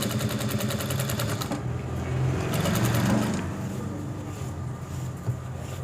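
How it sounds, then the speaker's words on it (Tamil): A sewing machine stitches the hem of a patchwork blouse in a steady, continuous run of rapid mechanical clatter, close and fairly loud, with no talking. "இப்போ இப்படி கீழேயும் தைச்சிடலாம்."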